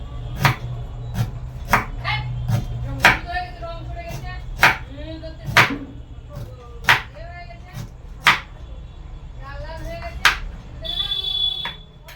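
Ginger chopped with a knife on a board in a home kitchen, a dozen or so crisp, irregular thuds spaced about a second apart, close and clear, with someone talking between strokes.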